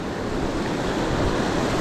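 Water rushes continuously at a small runoff waterfall during a fishing outing, a loud, dense, steady roar close by with no pauses.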